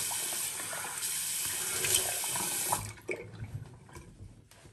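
Cold water runs steadily from a sink tap for a face rinse, loud and close, then cuts off after about three seconds, leaving a few splashes and drips.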